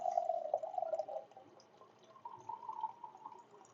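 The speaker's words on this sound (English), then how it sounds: "And then I'm going to put 2 cups of water." Two cups of water poured from a mason jar into a pan, a close, steady liquid trickle that eases off midway and then resumes with a second gentler stream, with no voices.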